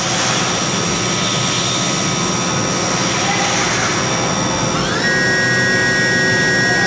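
Spindle of a 2006 Haas VF-2SS CNC vertical machining center spinning at 5000 RPM, a loud steady whine with high tonal hum that shifts pitch slightly near the end, heard alone.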